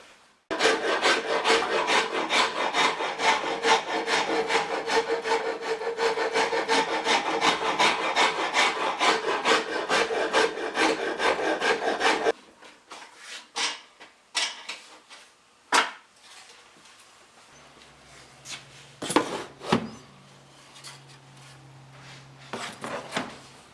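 Wooden mandolin necks are rasped and filed down to size, producing a long run of rapid, rhythmic scraping strokes close by, then a pause broken by scattered knocks and brief rubs from handling the wood.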